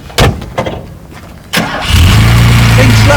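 A fully restored dark blue 1970 Mercedes 280 SL Pagode fires up close by: a few thumps, a brief crank, then the engine catches at once and settles into a loud, steady idle.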